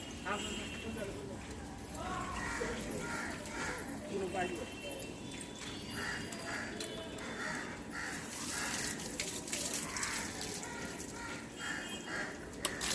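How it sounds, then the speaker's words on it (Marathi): Water from a hose sprays and splashes in bursts against a vehicle being washed, with people talking nearby throughout. "गाडीत धुवायचं काम चालू आहे आता मस्त चकाचक होईल"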